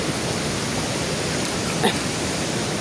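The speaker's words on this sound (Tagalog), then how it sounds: "Going down to Kawasan Falls." Kawasan Falls in Cebu roars as a steady, broad rush of falling water that stays constant and fairly close throughout, with a brief vocal sound breaking through near the end.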